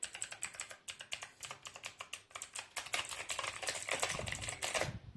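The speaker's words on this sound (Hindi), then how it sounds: "मुझे खास पसंद नहीं क्लिक्स के साउंड।" Rapid typing on a Redgear Shadow Blade mechanical keyboard, a steady stream of sharp, close clicky keystrokes growing slightly busier toward the end, with no talk.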